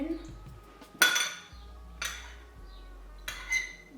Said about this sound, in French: Vous allez ajouter 3 cuillères à soupe de noisettes concassées.